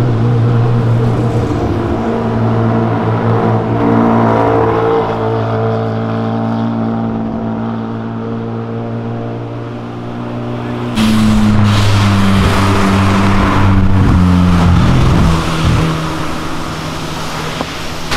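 A car passes loudly along Avenida Europa, its engine droning steadily before rising into a harsher, stronger roar as it goes by close.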